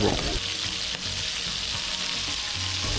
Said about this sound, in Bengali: এবার নেড়ে চেড়ে ভাজতে থাকবো।